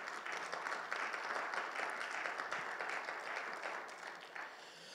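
Dense applause fills a church as the congregation claps for the Lord, a thick, steady roar of hands that tapers slightly toward the end.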